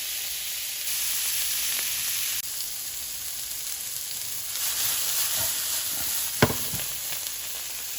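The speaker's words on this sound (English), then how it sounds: "as soon as it starts to brown a little bit, in go my Brussels sprouts" Brussels sprouts frying in a pan of butter and vegetable oil, giving a loud, steady sizzle and hiss throughout, with a few brief clinks and pops near the end.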